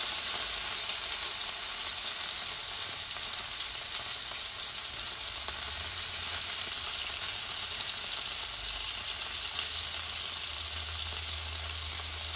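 Greek meatballs sizzle steadily in a hot pan, a continuous broadband frying hiss with no break, moderately loud and close throughout.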